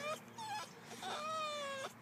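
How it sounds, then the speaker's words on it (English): An excited dog whimpers and yips in thin, high, drawn-out whines, several in quick succession, close and fairly quiet at a trout fishing spot. "Our dog's freaking out. He's too excited."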